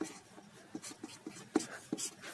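Chalk or a marker scratches and taps on a board in a run of short strokes forming words, faint and close, with no talking.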